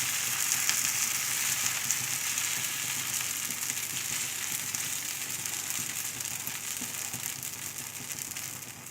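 Dosa batter sizzles steadily on a hot pan as it is spread into a thin round, a continuous close crackling hiss that holds level throughout with no talk.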